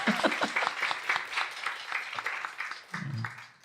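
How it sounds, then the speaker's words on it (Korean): Applause from a church congregation during a Sunday sermon, a fairly quiet patter of claps that thins out, with a low voice briefly murmuring near the end. "박수 한번 치죠."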